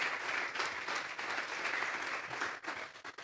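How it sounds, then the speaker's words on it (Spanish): Loud applause from a church congregation at a Sunday afternoon service, dense steady clapping that fills the space for a few seconds before thinning out into scattered claps at the end. "Vamos a darle un fuerte aplauso pues al Señor esta tarde."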